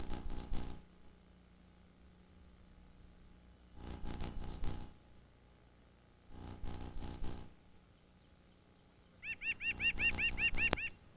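Bird calls repeat in four short bursts of quick high notes about three seconds apart, clear and close with quiet gaps between them; the bird is a white-breasted nuthatch in a backyard, a tree-trunk forager.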